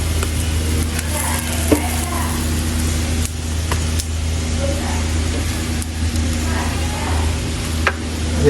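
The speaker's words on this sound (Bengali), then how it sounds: "এদিকে আমাদের খিচুড়িটাও হয়ে গেছে, তখন খিচুড়িটাকে নাড়া দিয়ে নিই" Khichuri being stirred in a cooking pot on the stove, under a steady sizzling hiss, with a few faint scraping clicks from the spoon.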